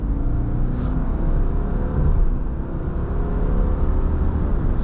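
Cabin drone of a 2024 Subaru Crosstrek Wilderness accelerating in sport mode, its CVT mimicking gear shifts: a steady, loud engine hum with subtle rising pitch sweeps, no voices.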